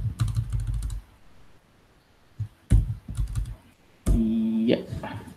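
Bursts of typing on a computer keyboard while Java code is entered during a programming lesson, clattering in short clusters separated by quiet pauses, with one sustained tonal sound near the end.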